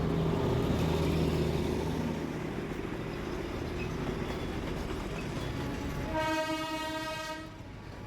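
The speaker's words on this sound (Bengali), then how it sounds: "দেখো কি সুন্দর লাগছিল দূর থেকে আসা এই টয় ট্রেনটা" The Darjeeling toy train rumbles closer with rattling wheels, then sounds a long horn blast near the end before the noise drops away.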